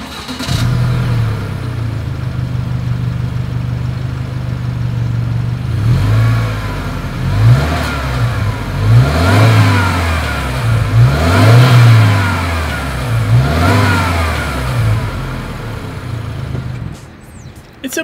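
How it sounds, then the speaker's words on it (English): A 2020 Subaru Outback's turbocharged engine revs repeatedly from a steady idle, the exhaust note rising and falling in several loud, throaty bursts close by. "As always, here is that exhaust clip."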